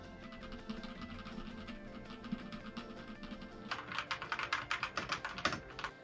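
Rapid typing on a mechanical keyboard, a steady stream of close clicking keystrokes that grows louder and sharper in the second half.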